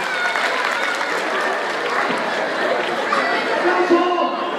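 A crowd at a jaripeo during an annual fair in Santa María Velató applauds and chatters steadily throughout, a dense wash of clapping and voices with no pauses.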